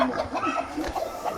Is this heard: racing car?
no